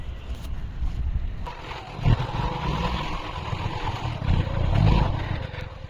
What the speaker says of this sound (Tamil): ஸோ பைக்கில் நாங்கள் 2 பேரும் கிரவுண்டுக்கு கிளம்பிட்டோம்.